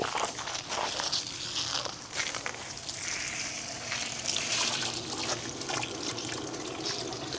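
A Limodot portable 4000GPH submersible sump pump draws water out of a bucket, giving a continuous splashing, gurgling rush of liquid nearby with a few clunks and footsteps mixed in.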